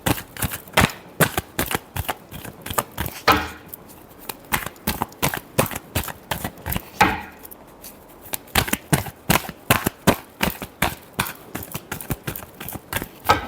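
Tarot cards shuffled by hand in a steady series of crisp riffling slaps, rhythmic and close, with brief pauses between bursts and no talking.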